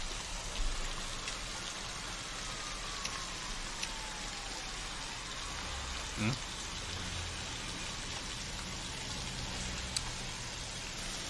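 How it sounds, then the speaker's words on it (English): Rain falls steadily in a scene from the TV drama Better Call Saul, a constant dense hiss that runs throughout, with faint voices underneath. "Oh God, it's raining!"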